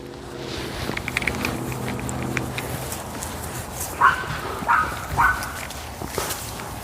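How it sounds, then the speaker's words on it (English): A dog close by lets out a few short barks and whimpers in quick succession, over a steady background rumble, with some shuffling before them. "Why are you barking?"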